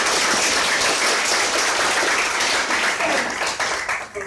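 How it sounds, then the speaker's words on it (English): An audience at a university VR workshop in Hawaii applauds: dense, steady clapping from a sizable group that fades slightly at the end. "Big applause for setting this up."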